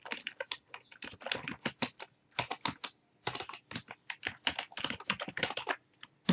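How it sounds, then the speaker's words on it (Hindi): Rapid, uneven keystrokes on a computer keyboard clatter close up and clear, in quick bursts with short pauses, while entering text in a Microsoft Word 2003 text box, with no voices. "अब यहाँ पे मैं टाइप करता हूँ नोट"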